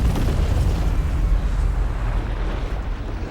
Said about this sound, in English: A double explosion.